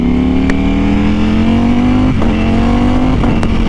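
Super sport motorcycle engine running loud and close, a steady high-pitched rev holding its tone, briefly dipping and rising again between short gear blips.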